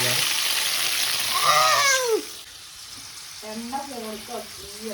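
Small onions sizzle in a hot pan, a bright crackling hiss that fades midway, with a voice speaking over it later.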